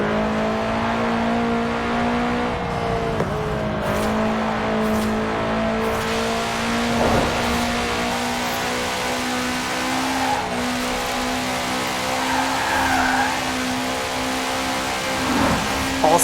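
A Subaru Impreza engine in Forza Horizon 4 drones continuously at a steady pitch with slight rises and falls, a constant loud hum with tire and road noise underneath.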